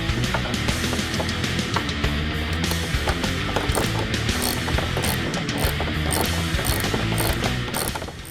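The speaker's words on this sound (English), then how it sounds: "Now we can remove the 2 10mm bolts on top of the headlight" A ratchet rapidly clicks while removing 10mm bolts from the top of a Ford F-150 headlight, with dense mechanical rattling that stays loud and close throughout.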